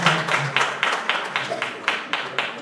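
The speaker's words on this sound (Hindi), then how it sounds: "भरपूर तालियाँ" Audience applause at a book launch in New Jersey, heard as a run of fairly close, rhythmic hand claps that pulse steadily for a few seconds with no talking over them.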